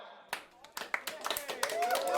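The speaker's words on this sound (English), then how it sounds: "It was like clapping at a children's piano recital." A concert crowd at a show in New Orleans gives lukewarm applause, scattered claps building slowly into a steady patter with crowd noise and some voices underneath.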